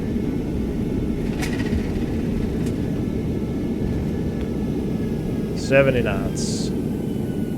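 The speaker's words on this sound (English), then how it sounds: "Reverser sounds pretty good, actually." An Airbus thrust reverser roars as a steady, broad rumble during a simulated landing roll, loud and constant, while a man briefly calls out speed over it.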